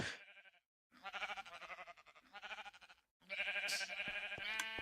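Sheep in a video game sheep farm bleating in three separate calls, each a wavering nasal bleat, close and clear against near silence, the last one longest.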